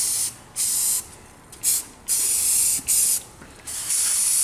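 A spray can hisses in repeated bursts of about half a second to a second as arcade parts are painted, each blast close and loud, separated by short gaps, with no talking.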